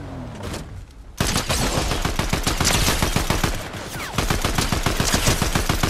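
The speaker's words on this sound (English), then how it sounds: "Getting shot at." In a Fortnite squads match, rapid automatic gunfire crackles in a loud, sustained burst of closely spaced shots after a brief quieter lead-in.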